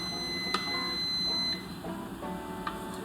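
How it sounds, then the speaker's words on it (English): A kitchen timer set for baking biscuits goes off with a thin, steady electronic beep over low kitchen hum, cutting out after about a second and a half. "my timer for my biscuits are about to go off here in 3"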